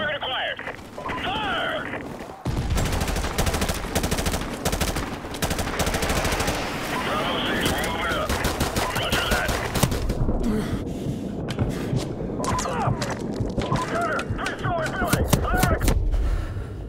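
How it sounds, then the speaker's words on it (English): Gunfire in Call of Duty: Modern Warfare Remastered, loud sustained bursts of shots and sharp cracks running almost throughout, with a voice talking intermittently beneath the dense, close shooting. "I'm literally shooting right on him"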